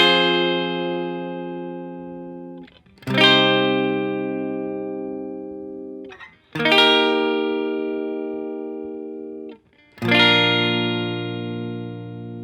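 An electric guitar plays the chord part of a song through effects. Four sustained chords are each struck and left to ring and fade, with short gaps between them and a processed, slightly distorted tone.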